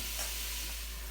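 One pound of ground sausage sizzling as it browns in a pot for pasta e fagioli, a brief, steady, moderate hiss with no talk.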